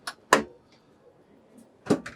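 Soft-close drawers in a 2020 Hymer ML T 580 motorhome kitchen give a few soft thumps and slides, two firmer bumps at the start and end with quiet rustling between, close and gentle.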